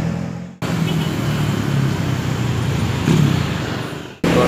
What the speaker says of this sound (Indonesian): Sana di Jalan Baros terpantau mengalami ramai lancar kendaraan yang melintas di kawasan ini.